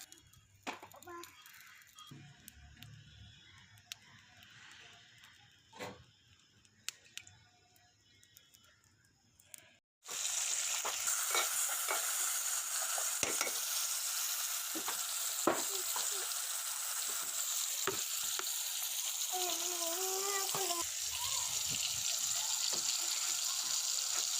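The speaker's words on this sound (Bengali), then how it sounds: "সামান্য পরিমাণ হলুদ প্রথমে এগুলো কষিয়ে নিব তারপর মাছগুলো" Fish with turmeric fries in a pan outdoors; after a quieter stretch of clatter and voices, a loud, continuous sizzle starts abruptly and holds steady while people, including a child, talk over it.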